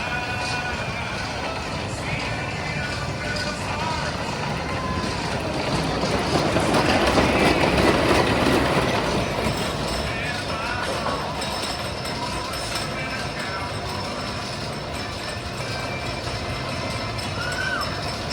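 The Cannonball roller coaster train at Lake Winnepesaukah rumbles along its track, a steady rolling clatter that swells louder near the middle and fades back, heard from close by.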